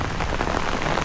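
Rain falls steadily onto surfaces, a dense, even hiss of drops that stays constant throughout, fairly loud and close with no voices.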